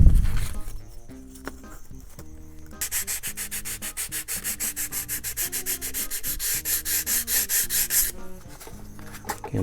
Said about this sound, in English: I just need to trim a little bit off of here, off of this back side.